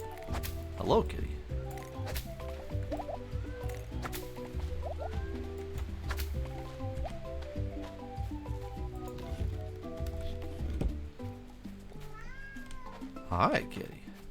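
A cat meows in the farming game Roots of Pacha, with several short, repeated meows over melodic game music and ambient effects, while a person talks over the top.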